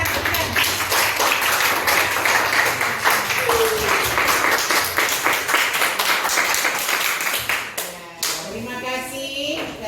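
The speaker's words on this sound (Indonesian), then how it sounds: "Tepuk tangan, tepuk tangan." Students applaud together in a classroom, a dense, steady burst of clapping lasting several seconds before thinning out, with a voice coming in briefly near the end.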